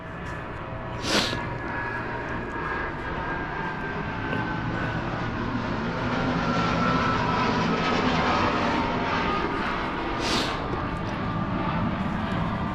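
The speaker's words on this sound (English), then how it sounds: "There goes the airplane." Airplane passing overhead, a broad steady roar that swells gradually across the clip, with a couple of brief nearby hisses and no speech.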